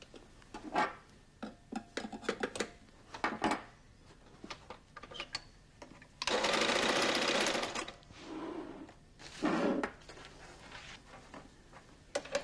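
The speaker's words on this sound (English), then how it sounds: "The machine runs to the edge of the carpet." A Flexorand Speedbinder sews Perlon velour tape onto a carpet edge, with scattered clicks and short taps building to two louder bursts of rapid machine stitching, heard close and without talk.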